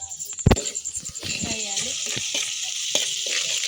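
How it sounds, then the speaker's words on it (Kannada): Upma sizzles and fries in a pot over a wood-fired clay stove, a steady close hiss with a brief thump near the start, while a person talks over it. "ಫ್ರೈ ಆಗೈತ್ರಲ್ಲೇ ಭಾರಿ ಟೇಸ್ಟ್ ಆಗುತ್ತೆ."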